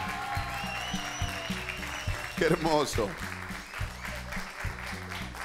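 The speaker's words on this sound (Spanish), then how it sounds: "un aplauso para ellas dos." Studio audience applause on a Spanish-language television programme rises in a short burst beneath background music, while a host speaks over it.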